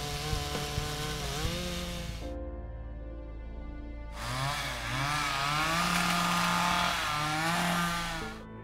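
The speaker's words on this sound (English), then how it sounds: "For those massive trees, you'd need a heavy-duty chainsaw to get the job done." A heavy-duty chainsaw engine drones loudly, dropping to idle for a moment before revving back up hard as it bites into wood, then easing off.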